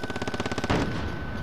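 Rapid automatic gunfire from the game Call of Duty Warzone, a fast burst of about a dozen evenly spaced shots, then a heavier blast with a ringing tail. No talking.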